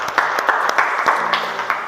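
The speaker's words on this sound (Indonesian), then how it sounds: "Tepuk tangan dulu." Classroom applause during a lesson on socket wrench sizes: a short burst of scattered hand claps from a small group of students, fairly close and sustained for about two seconds.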